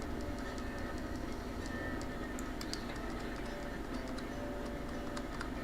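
A train with a caboose being pulled in the game Railroads Online gives a steady low rumble, with faint irregular metallic ticks and clicks scattered over it. No talk is heard.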